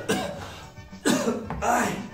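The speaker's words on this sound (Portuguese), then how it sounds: "que faz a gente tossir" Coughing set off by vinegar cleaning fumes: three harsh, close coughing bursts spaced about half a second apart, with a rough throaty quality and light breathing between them.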